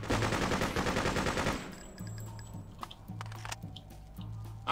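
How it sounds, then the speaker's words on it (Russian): Machine gun fire in the video game Freedom Fighters rattles as a fast, dense burst for about a second and a half, then fades to quieter scattered clicks and low hum. "Пулемет."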